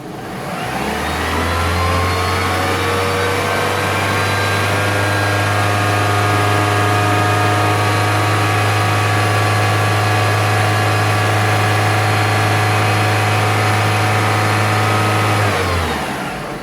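Car engine held at a fast idle during an alternator output test, a loud, steady drone that holds for about fifteen seconds before dropping off at the end.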